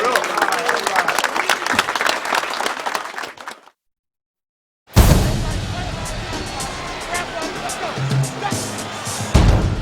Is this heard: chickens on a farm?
no